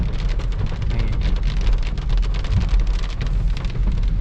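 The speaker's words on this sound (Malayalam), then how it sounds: "വെളിയിലിത് നല്ല സൂപ്പർ മഴ കേട്ടോ" Heavy rain pours steadily outside near Gudalur on the Ooty–Mudumalai forest route, a dense continuous roar of drops with a deep low rumble underneath, loud and unbroken throughout.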